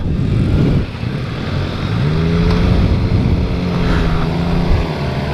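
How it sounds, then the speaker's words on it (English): A 2015 Suzuki GSX-R 600 sport motorcycle whines while being ridden, its engine tone rising and falling steadily over constant road and wind noise, loud and close, with no talking. "These newer Gixxers got a nice little whine to them."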